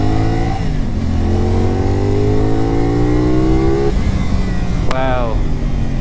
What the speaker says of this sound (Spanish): Aceleramos aquí un poco.